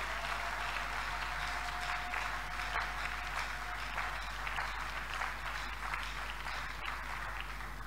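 A church congregation applauds steadily at an evangelical service, a continuous even patter of many hands clapping, somewhat distant and without a break for the whole stretch.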